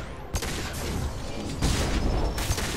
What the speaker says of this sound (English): Was that a biotic explosion?